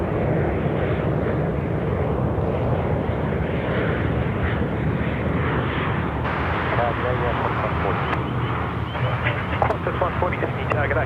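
Airliner engines roar steadily at Sydney Airport, a continuous loud rumble filling the whole stretch with no break.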